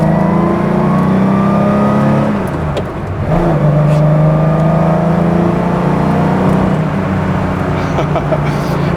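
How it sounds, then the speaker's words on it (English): Backdated sports car engine revving steadily under light throttle from inside the cabin, a continuous loud droning hum with rising and falling pitch and no speech. "I got the hang a bit of this car, so let's push some revs."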